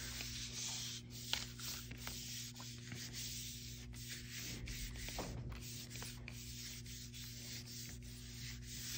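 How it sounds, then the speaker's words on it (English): A hand smoothing freshly glued paper down flat during a winter moonscape craft, a steady soft rubbing and brushing over a constant low hum, with no talk. "Smooth it all out."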